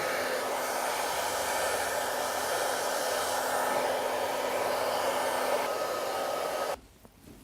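Hair dryer blowing steadily and fairly close while drying a man's hair styled with moulding paste, a continuous even whoosh with no talk, cutting off abruptly near the end.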